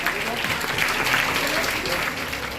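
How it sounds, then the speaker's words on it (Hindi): An audience at an achievers' celebration claps to welcome a speaker to the stage, dense steady applause at moderate volume for a couple of seconds. "अनूप सर जोरदार तालियों से स्वागत किया जाए अनूप सर का"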